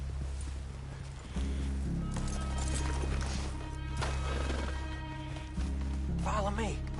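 Horses moving in Red Dead Redemption 2, with a steady clip-clop of hooves under a constant low hum and game music, while voices talk over it.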